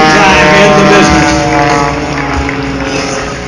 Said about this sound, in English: showing you the performance of the Oakley-sponsored Viper biplane